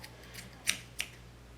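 Two quick, crisp scissor snips cutting yarn strands close by, the second following shortly after the first, with quiet surroundings and no talking.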